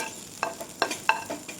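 Pasta is stir-fried in a little oil with a spatula: about four quick, rhythmic scraping strokes against the pan sit over a faint sizzle, close and clear.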